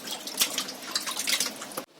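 Tap water splashes and trickles as cleaned fish is rinsed, close and fairly loud with uneven gurgling bursts for about two seconds before it cuts off.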